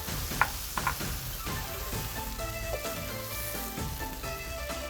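Shrimp paste frying with pre-sautéed ground chili in a pan, giving a steady close sizzle and crackle throughout, with faint clinks of a utensil near the start.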